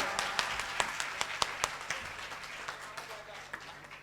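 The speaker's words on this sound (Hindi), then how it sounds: "पूरे मजमे से मिलकर जोरदार तालियां बजाएं हमारे मेहमान आने का" A mushaira poetry-gathering audience applauds to welcome a guest, with dense crowd clapping and sharp, regularly spaced individual claps standing out, fairly loud and gradually fading over several seconds.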